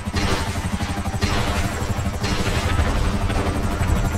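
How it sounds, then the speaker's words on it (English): Buckingham Akula military helicopter in GTA Online, a steady loud rotor thrum and turbine roar with rapid chopping pulses, continuous throughout and heard alone without talk. "A rather underrated vehicle is the Akula, but it has many abilities that place it above other helicopters."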